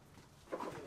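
A pigeon coos once inside a workshop, a short soft call rising over quiet room noise in the second half.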